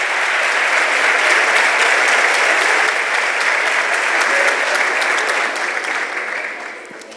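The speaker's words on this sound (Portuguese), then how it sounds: "pode aplaudir os nossos amigos aqui." A live audience gives strong, continuous applause at a talk after a comedic sketch, a thick even roar of clapping that holds for several seconds and then fades toward the end.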